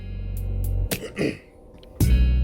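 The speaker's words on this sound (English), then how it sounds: "He coughs." A video game character, a man, gives a couple of short, rough coughs over a low background hum, then the hum drops out and a final burst follows.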